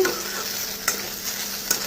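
Potatoes fry in a pan with a constant bright sizzle, broken by two quick clicks of stirring.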